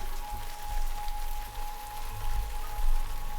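Steady rain in the visual novel game Norn9 Last Era Concerto, a continuous even patter of falling drops with a faint low rumble underneath and no talking.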